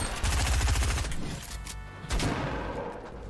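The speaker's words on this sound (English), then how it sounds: "This guy's shooting me up with a shotgun." Shotgun blasts in Fortnite come as a rapid, loud burst of shots followed by a few more separated booming hits.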